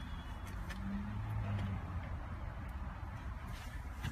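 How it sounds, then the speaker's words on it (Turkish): A Renault Talisman engine idles just after starting, a faint, steady low rumble heard from nearby with no other sounds over it. "Aracı çalıştırdık arkadaşlar"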